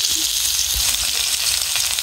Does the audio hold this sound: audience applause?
no